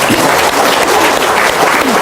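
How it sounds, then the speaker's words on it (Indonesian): A burst of applause from a crowd, steady clapping filling the whole moment, loud and close. "Tuh, tepuk tangan dong."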